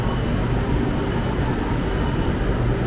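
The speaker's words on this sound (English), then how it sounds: "It's a major train station in the southern part of the city." Ambience inside Plaza Constitución, a big old train station with metal rafters in southern Buenos Aires, a steady low rumble of trains and station noise filling the space without pause.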